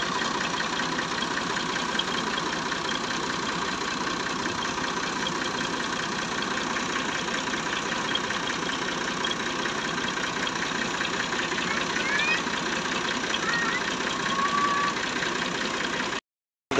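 A Massey 240 tractor driving a water pump to drain rainwater from Punjab fields runs at a steady mid-pitched idle, droning continuously and close, with no voices heard.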